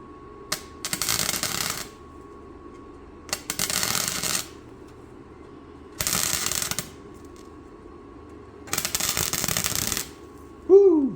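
A flux core welder tacks thin rusted sheet metal on a 2000 Toyota Tundra SR5, laying four short crackling, sizzling bursts separated by quiet pauses, loud and close.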